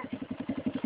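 Motorcycle engine pulsing in a quick, even rhythm of low throbs, close and fairly loud over a very short stretch.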